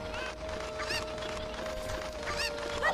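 A chicken clucking in Zelda: Ocarina of Time, several short squawky clucks scattered over a steady low game tone and ambient hum, no speech.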